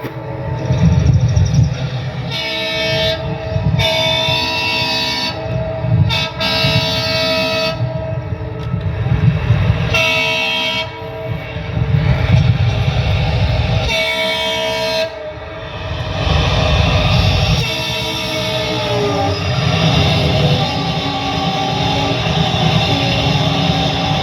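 A train rumbles past up close, loud and continuous, with repeated blasts of its horn sounding over the clatter.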